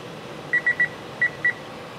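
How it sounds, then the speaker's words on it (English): Kitchen timer being set to 15 minutes beside a pot at a full rolling boil, giving five short, crisp electronic beeps in two clusters, close and clear over a steady background hiss. "I want to set the timer to 15 minutes."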